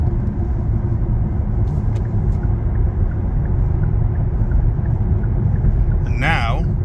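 A Kia EV6 electric car merging onto a highway, with a steady loud road and wind rumble throughout, and a person talking over it.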